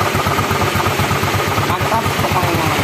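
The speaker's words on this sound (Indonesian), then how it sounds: "ini motor sudah hidup kembali ya" A Yamaha Mio scooter engine, freshly rebuilt, idles steadily close by, a fast, even low putter that runs without pause.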